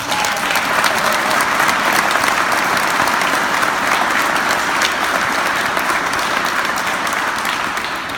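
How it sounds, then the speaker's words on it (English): Steady, loud round of applause from a crowd at a firefighter promotion ceremony, sustained dense clapping without pause throughout. "so let's give him a round of applause"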